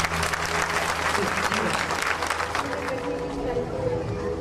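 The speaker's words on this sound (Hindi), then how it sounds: "सब प्रभु यीशु मसीह के लिए जोर से ताली बजाएं" A congregation claps loudly for Jesus, a sustained, dense roll of applause with crowd murmur and a few voices mixed in, steady throughout.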